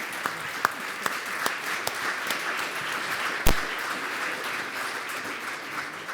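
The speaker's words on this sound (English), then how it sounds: "Let's give them a round of applause." A conference audience gives a steady, dense round of applause for panelists after an energy security panel discussion. The clapping fills the room evenly, with a few sharper individual claps standing out.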